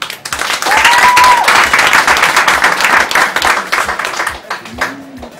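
Wedding guests clap together at a traditional family wedding, a dense, loud applause running steadily for several seconds and tapering toward the end, with a few brief voices rising over it.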